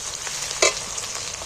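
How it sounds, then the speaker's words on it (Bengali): Onions fry lightly in a pan with a steady, hissing sizzle, broken once by a brief, sharper clack of stirring. "ভাজা হয়ে গেছে পেঁয়াজটা কিন্তু আমি খুব বেশি লাল করে ভাজবো না"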